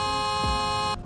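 Horn of a Tesla Cybertruck in the Roblox Greenville video game, one steady electronic buzzing tone held for about a second before cutting off abruptly, with no talk.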